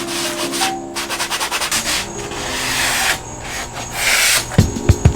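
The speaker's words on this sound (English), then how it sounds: "just take some of them rough edges off." Hand sanding along the rough edges of van flooring in a Promaster conversion, with quick rhythmic rubbing strokes close by, brief pauses, then a few knocks at the end.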